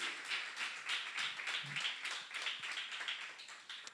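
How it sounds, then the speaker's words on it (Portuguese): A church congregation claps in praise during a Portuguese-language worship service, a faint, steady patter of many hands spread across the room with no voices over it. "aplauda o Senhor Jesus"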